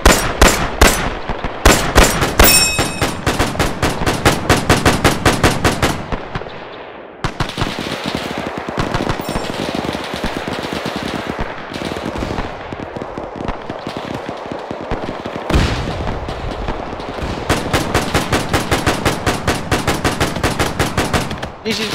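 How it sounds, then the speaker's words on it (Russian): Sustained automatic gunfire from the military video game ARMA 3, dense rapid bursts of shots that pause briefly and then resume, loud and close throughout. "Человек у соседей стреляет. Магазины отстреливают."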